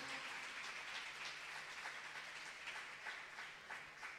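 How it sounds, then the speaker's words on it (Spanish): Steady crowd applause at a church service fills the whole stretch, a dense wash of many hands clapping at an even, sustained level without a break. "Dele fuerte aplauso"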